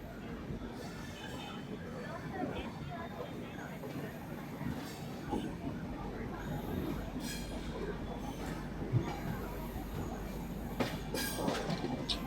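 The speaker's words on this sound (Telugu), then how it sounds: "ఈ ట్రాక్స్ చేంజ్ అవుతున్నప్పుడు నాయిస్ వస్తుంది కదా" Rajahmundry to Tirupati express 17250, an LHB-coach train, running on tracks near a road-cum-rail bridge, a steady low rumble with occasional wheel screeches and clanks as it crosses switches, faint talk within.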